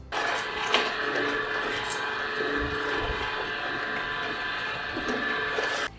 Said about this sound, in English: So the sound from the cold press juicer is really low.